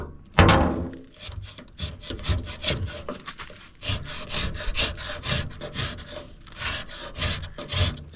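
A hand scraper working old wooden wheelbarrow handles, drawn in one direction to clean the surface: repeated close, rasping strokes in a steady rhythm, with no voices.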